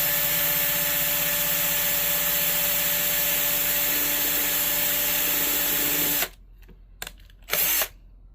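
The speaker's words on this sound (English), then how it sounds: "Don't drill too deep." A power drill runs steadily, boring a hole in a side-standing bobbin base, its loud continuous whine lasting about six seconds before stopping, followed by two short bursts.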